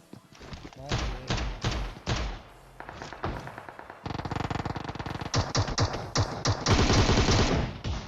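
Gunfire in the battle royale game PUBG Mobile comes in rapid bursts of thumping shots, including shotgun fire, loud and close, with someone talking over it.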